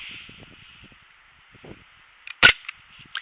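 A Daisy Powerline 5501 CO2 air pistol fires a single sharp, close crack partway through, with small clicks and a faint hiss before and after it in an otherwise quiet room.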